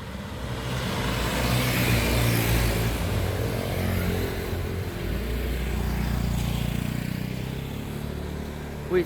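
A motorbike rides at speed in Bali, carrying a steady, close engine drone under heavy wind rumble that builds and eases slightly throughout.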